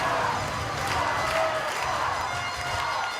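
Dense crowd noise fills an arena at the Glacier during the Canada versus Czechia U20 World Junior Ball Hockey gold medal game, a steady roar of cheering and chatter sustained throughout.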